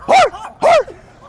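Two loud, close dog barks with a short pause between them, the second a near copy of the first, followed by a low whimpering trail.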